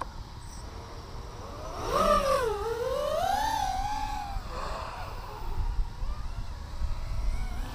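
A racing drone passes through a timing gate, its motors rising into a loud, close whine that swoops up and down in pitch, then fades to a steadier background whir.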